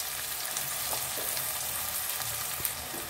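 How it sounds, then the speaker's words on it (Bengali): Onion and a split dried red chilli frying in hot oil in a wok, giving a steady, dense sizzle throughout with faint stirring scrapes and no talk. "তো কড়াইতে আমি একটু পেঁয়াজ দিয়ে দিচ্ছি"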